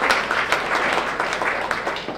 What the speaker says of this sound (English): give yourselves a big round of applause for being a part of the change